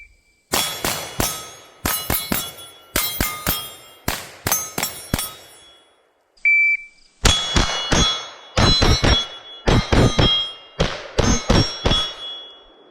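A Kel-Tec Sub2000 Gen3 rifle fires rapid bursts through a full 31-round magazine, loud sharp metallic cracks in quick clusters with a short gap midway, heard up close.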